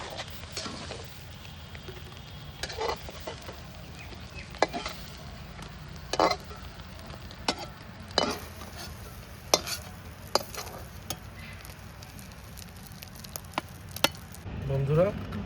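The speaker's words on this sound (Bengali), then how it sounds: "মাছটা ভাজা হয়ে গেছে" Fish frying in a pan in a village kitchen makes a soft, steady sizzle, broken by scattered clicks and clatters of utensils against the pan.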